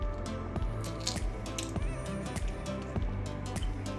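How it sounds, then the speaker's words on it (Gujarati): Repeated wet snaps and squishy pops as pea pods are split open, with small splashes and drips into water, close up and steady. "આપણે બધા વટાણાને આ રીતે ખોલી નાખશું અને પાણીમાં એડ કરતા જશું"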